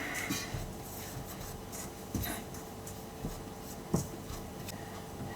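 Quiet scraping and rubbing of a utensil through flour, salt and dry yeast in a bowl, with occasional soft knocks against the side.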